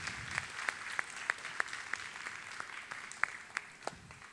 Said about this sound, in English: Let's give her a round of applause for that move.